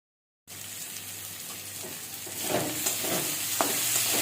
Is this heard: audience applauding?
no